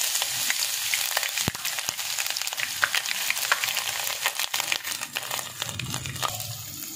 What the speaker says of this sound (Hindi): अब हम इसमें अदरक लहसुन का पेस्ट डालेंगे।